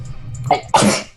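A single sharp sneeze, a quick inhale then a forceful burst, close and loud.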